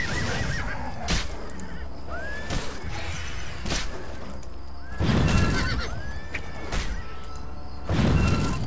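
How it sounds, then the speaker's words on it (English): Horses in the Elder Scrolls IV: Oblivion game neigh loudly several times amid heavy hoof thuds and clatter, with shrill whinnies rising over dull impacts throughout. "You just killed my horse!"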